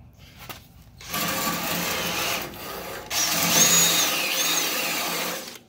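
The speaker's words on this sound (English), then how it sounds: "we'll hit this with the wire brush again with on the drill" A drill whirs loudly with a wire brush stripping paint from a surface, starting after a short pause, briefly dropping, then grinding on steadily.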